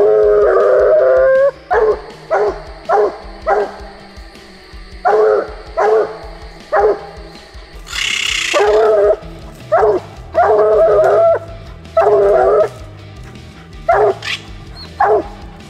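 Hunting dog pups at a Kentucky pup hunt bark and howl in repeated loud close bursts, with drawn-out bawling howls between sharper barks and a brief noisy burst in the middle; no one speaks.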